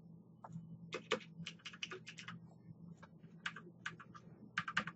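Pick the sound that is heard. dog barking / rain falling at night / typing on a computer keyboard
typing on a computer keyboard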